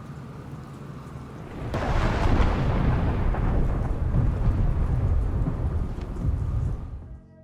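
Thunder and rain in the Batman Arkham Knight video game: a steady hiss of rainfall swells into a loud, rolling thunder crash that rumbles on for several seconds before fading.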